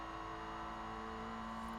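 A Citroen DS23 in Forza Horizon 4, fitted with race brakes, holds a steady high-rev engine note past 7,000 RPM from the interior view: a constant, even drone with strong tonal harmonics, alone without talk.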